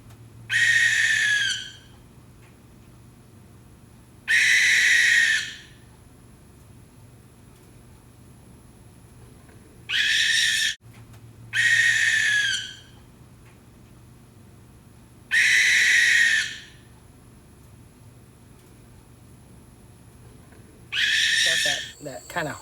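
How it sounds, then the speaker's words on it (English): A barn owl in Indiana gives a series of harsh, hissing screeches, about six drawn-out bursts spaced a few seconds apart over quiet background, fairly close and clear. "Let's take a listen to the barn owl for a minute."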